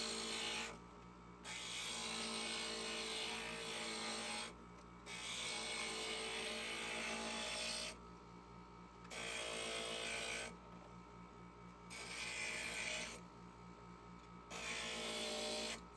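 A stained glass grinder shapes pieces of glass in bursts of several seconds each, a steady buzzing hum broken by short pauses, fairly quiet and close, with no voices.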